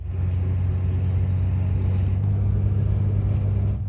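A car engine rumbles steadily close by as the vehicle pulls away and drives along a rough road in Mexico, a continuous low drone holding at one level throughout with no talking.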